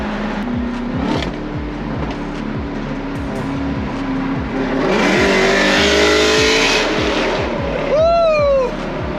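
A Jeep Trackhawk accelerates hard with the windows down, its engine a loud, steady roar that builds in intensity from inside the cabin, and a passenger's voice whoops near the end.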